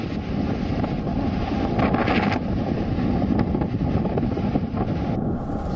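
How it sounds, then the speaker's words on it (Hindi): Strong cyclone wind off the sea in Odisha roars continuously with surging waves beneath, a dense, loud rush of air and water without pause. "लहरों की आवाज और हवाओं का शोर सुनिए।"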